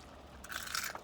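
Someone bites into a Popeyes fried chicken thigh: quiet room tone, then a sudden close, crisp crunch of the breading, with a few brittle crackles after it.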